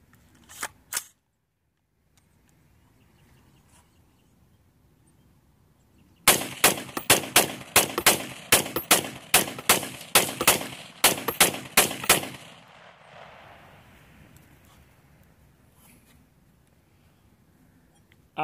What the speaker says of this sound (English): here's the crank that allows me to fire the AR slightly faster than I might just by pulling the trigger